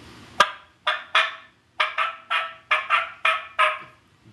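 Turkey call played in short sharp cutting notes, about ten quick yelps in uneven bursts, close and fairly quiet with no talking.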